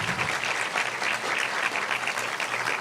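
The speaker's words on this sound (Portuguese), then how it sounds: "que você seja aplaudida por todos nós" A hall audience applauds steadily and warmly at a family foster-care event, a dense, even wash of clapping held at constant level throughout with no speech over it.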